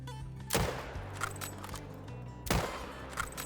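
Rifle shots ring out at grizzly bears in theHunter Call of the Wild, two sharp, loud reports about two seconds apart, each trailing off into a rolling echo.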